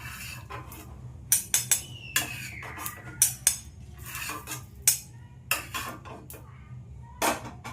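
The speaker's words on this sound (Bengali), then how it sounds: "আমি ওই কারি পাতাটার সাথে জিরে ভাজাটা তুলে নিচ্ছি।" A spoon lifts fried cumin seeds and curry leaves out of a pan, with scattered metallic clinks and scrapes over a low steady hum, close and moderately loud.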